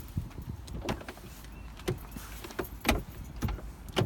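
An Audi A7 unlocks itself as someone approaches, giving a few sharp mechanical clicks and clunks from the door locks, spaced over a few seconds against quiet outdoor background.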